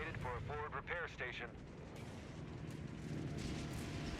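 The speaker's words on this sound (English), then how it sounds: "Another strafe comes on in." Air support strafing run in the World War II strategy game Company of Heroes 3, a rumbling barrage of gunfire and explosions mixed with a brief wavering whine, dense battle noise continuing throughout.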